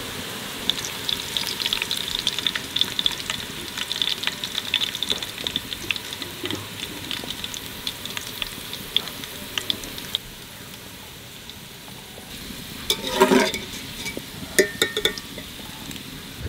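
Onions fry into beresta for chicken biryani: a steady, close oil sizzle with scattered clinks and scraping stir sounds, swelling briefly into a louder crackling burst near the end.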